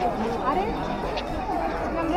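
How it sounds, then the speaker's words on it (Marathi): Busy crowd chatter of many visitors waiting at the tiger enclosure of Byculla Zoo in Mumbai, a steady murmur of overlapping voices close around. "खूप गर्दी आहे टायगरसाठी"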